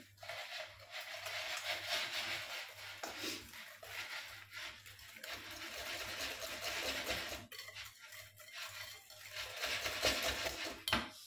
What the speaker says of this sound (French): Je mélange un petit peu